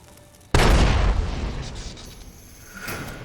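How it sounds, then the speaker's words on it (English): A grenade explodes in Fallout: New Vegas, a single sharp loud boom that hits suddenly and then decays into a rumbling tail over a couple of seconds. "Grenade!"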